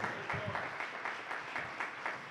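Congregation applause during a live-streamed church service, a steady, fairly close crowd clapping throughout with even rhythmic pulses and no break.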